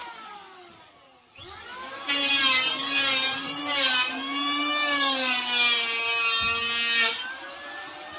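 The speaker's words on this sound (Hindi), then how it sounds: "यहाँ पर तो तेज आरी चल रही है।" A comedy sound effect of a saw: a high, whining, wavering buzz that starts abruptly, swells loud and harsh, then holds with a rough grinding edge before easing slightly.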